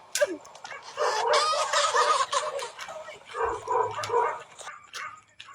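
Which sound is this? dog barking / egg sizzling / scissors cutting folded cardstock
dog barking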